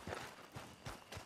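Hooves of a horse in Red Dead Redemption 2 clop softly in a steady walking rhythm, four faint thuds in quick succession with no speech.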